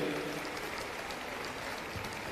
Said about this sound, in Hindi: जोरदार तालियों से इस भव्य आयोजन के लिए तालियां बजाएं